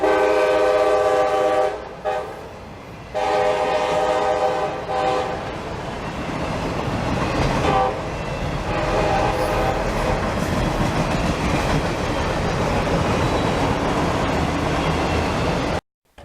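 CSX SD60 locomotive hauling a freight train past at close range, its horn blaring loudly in long blasts at the start before the steady clickety-clack of railcars rolls on; no talk.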